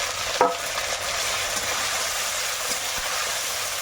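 Ginger, tomato and green chilli fry in a pan with a loud, steady sizzle, opened by a scrape of stirring and followed by a couple of faint taps.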